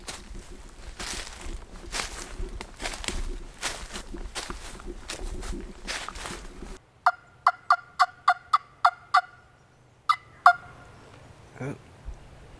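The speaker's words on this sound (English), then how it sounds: "I have one across the hollow just gobbled" A wild turkey gobbler sounds off across a wooded hollow by a lake, distant gobbling heard first under steady rustling and footsteps, then a quieter stretch with a series of sharp, evenly spaced calls and a couple of later bursts.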